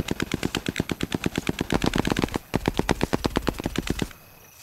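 Rapid automatic gunfire in the video game Sniper Elite 4 rattles off as a dense, evenly spaced burst of loud shots lasting about four seconds, then cuts to quiet.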